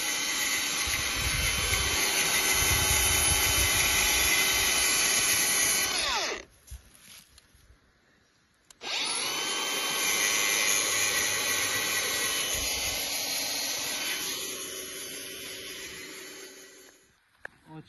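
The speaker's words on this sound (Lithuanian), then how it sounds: "Marius dabar su bulgarke pjauna." An angle grinder cuts metal while building floorboards for a yurt, a loud high whining screech running steadily for several seconds, stopping briefly, then starting again and trailing off as it winds down.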